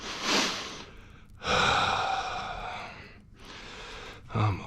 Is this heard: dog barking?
no